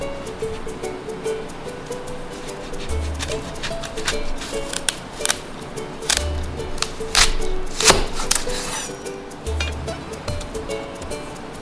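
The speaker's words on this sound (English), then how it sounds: "Cut the onion in half." A knife chops onion for beef steak tartare in a series of sharp, crisp cuts near the mic, with rhythmic bursts of strokes and a voice speaking now and then between them.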